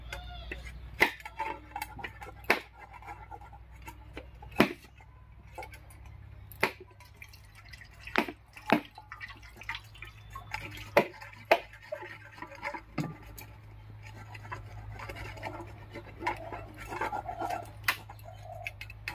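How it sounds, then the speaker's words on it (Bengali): A coconut being cracked and then grated by hand, heard as irregular sharp taps and scraping strokes spread across a quiet kitchen, close and fairly faint, with no voices. "তো প্রথমে আমি নারকেলটা ফাটিয়ে কুড়িয়ে নিচ্ছি।"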